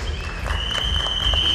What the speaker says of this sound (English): let's have some applause for the presenters also